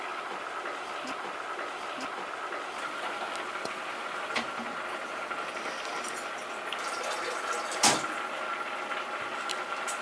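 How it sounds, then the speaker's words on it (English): Water being poured into a pot for cooking farro, a steady rushing splash that continues throughout, with a small clunk near the end. "I'm gonna add some water to it."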